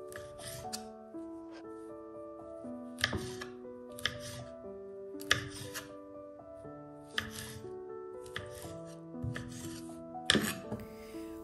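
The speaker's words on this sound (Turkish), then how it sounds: "Mandalina kabuklarını doğradım." Repeated knife chops through tangerine peels hit a cutting board at an irregular pace under soft background music, each cut a crisp close-up tap.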